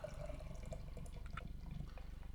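Treehouse Golden Bay, a wine-barrel-aged dry-hopped pilsner, pours into a glass as a quiet, steady liquid trickle with faint rhythmic gurgling, heard close and alone.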